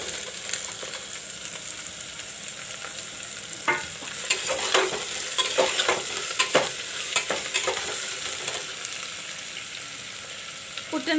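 Onions and white pumpkin fry in a pan while a spoon stirs them, a steady sizzle under scattered scraping and clinking strokes.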